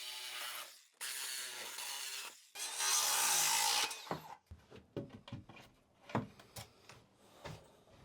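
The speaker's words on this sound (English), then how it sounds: "So let's go ahead and cut this stud out." A power saw cuts out a wooden wall stud beside a shimmed-out tub in loud bursts of buzzing, the longest and harshest near the middle, then gives way to scattered knocks and rattles of wood pieces being handled up close.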